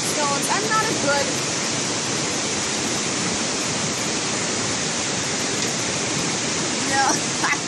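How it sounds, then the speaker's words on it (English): A small river on a nature trail in St. Vincent and the Grenadines rushes steadily and fairly loud, a constant broad wash of flowing water with faint bird calls near the start and end. "this is a beautiful little river"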